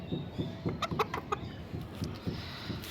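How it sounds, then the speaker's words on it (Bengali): A white chicken clucks at a nearby rabbit, giving a run of short, close, repeated clucks in an uneven rhythm. "সাদাটা আবার কক শুরু করে দিয়েছে খরগোশকে দেখে"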